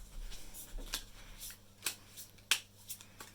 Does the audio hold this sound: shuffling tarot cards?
yes